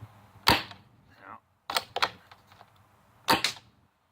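Three sharp airsoft shots, each a short crisp burst followed by a brief hiss, from an HPA-converted M82 Lancer Tactical rifle, spaced about a second apart at close range.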